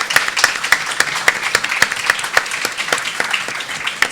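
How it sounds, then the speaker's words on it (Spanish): Applause from an audience at a film event, moderate in level and steady, with sharp individual claps standing out in a loose rhythm. "Un aplauso."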